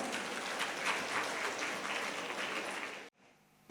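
An audience at the ANEICON 2026 conference applauds the finalists and jury members, a sustained even wash of clapping for about three seconds before it cuts off abruptly into near quiet.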